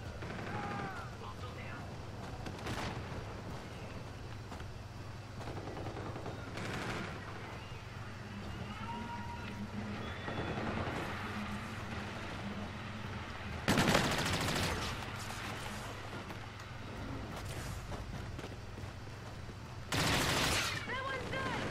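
Video game gunfire from Call of Duty: Infinite Warfare, a steady rattle of automatic fire under a constant hum, with louder, sharper bursts near the middle and end; players talk over the action.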